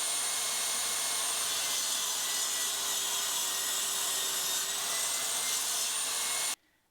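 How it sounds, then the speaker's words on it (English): A drop saw cuts 45-degree angles into a piece of wood. It makes a loud, continuous whining buzz that holds steady for several seconds and then cuts off abruptly. No speech. "Now for the 45-degree angles at the end, and that is a job for the trusty old drop saw"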